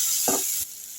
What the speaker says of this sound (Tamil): எண்ணெய் காஞ்சதும் கருவாடை சேர்த்துக்கலாம் கழுவிட்டு